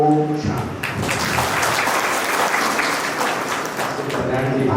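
An audience at a spiritual class in Nahan breaks into sustained, loud applause, clapping densely and evenly throughout after a voice briefly speaks at the start.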